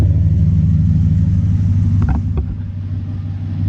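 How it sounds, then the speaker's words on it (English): Deep, steady low engine rumble from a 2014 pickup truck idling and revving up close, with a brief mechanical creak partway through and no talking. "Her truck sounds so good."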